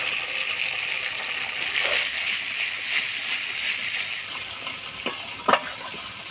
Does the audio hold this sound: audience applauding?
no